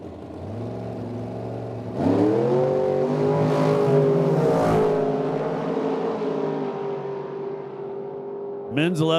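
A T&T Motorsports dragster and a CUDA launch off the starting line at a drag strip, a loud engine roar that swells, rises in pitch and holds steady before a sharp burst near the end, under an announcer's voice.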